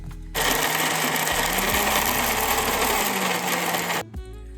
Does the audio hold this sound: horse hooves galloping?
no